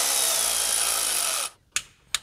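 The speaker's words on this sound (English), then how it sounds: "And I'm torquing this piece on." Power tool driving a part back onto a Mercedes SUV engine, a loud close whirring burst for about a second and a half, then two short sharp bursts after a brief gap.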